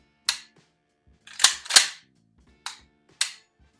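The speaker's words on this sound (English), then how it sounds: "Do a little function check" Sharp mechanical clicks and clacks from a shotgun function check after reassembly, with the action cycled and the trigger dry-fired: five distinct transients, two closely spaced in the middle, crisp and close with quiet gaps between.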